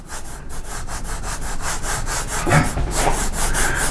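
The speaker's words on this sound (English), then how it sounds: "that sound is the palm of my hand rubbing here" Rapid, rhythmic rubbing strokes of a palm scrubbing back and forth across a rough canvas while painting, close up and fairly loud.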